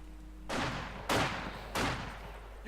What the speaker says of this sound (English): MG42 following up.